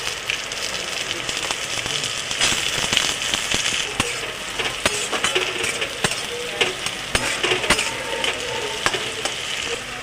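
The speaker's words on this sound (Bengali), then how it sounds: "ক্যাপসিকাম আর পেঁয়াজটা ভাজা হয়ে এসছে প্রায়।" Chopped onion and capsicum fry in oil in a pan, giving a steady loud sizzle with crackles and stirring scrapes throughout, no talking.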